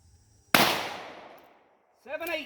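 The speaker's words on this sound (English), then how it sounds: "5 shots on the chronograph." A single sharp report from a Taurus Judge revolver firing Federal .410 shot, loud and sudden with a decaying ring, followed by someone speaking briefly afterward.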